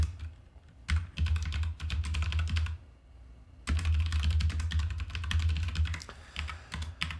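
Code is typed on a computer keyboard in two dense runs of rapid, close key clatter with a brief pause between them, and no talk.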